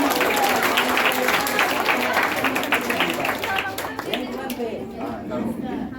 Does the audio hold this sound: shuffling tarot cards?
no